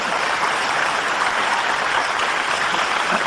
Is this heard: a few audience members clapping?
yes